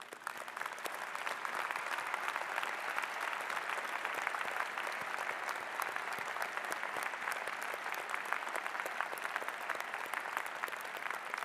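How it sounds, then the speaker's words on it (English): A large commencement audience at the University of Utah applauds the standing faculty award winners, a dense, steady wash of clapping that holds evenly for the full stretch without any voices over it. "will you join me in applauding them?"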